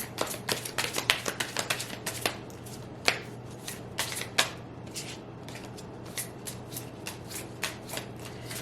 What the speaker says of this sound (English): I definitely have a habit of shuffling till cards pop out.